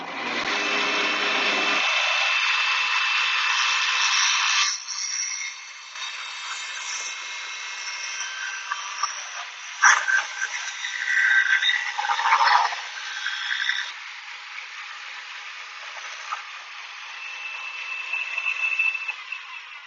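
A rotary planer mounted in a drill press cuts into wood, giving a steady high-pitched whirring grind that rises and falls as the cut deepens, loud and close with no talk.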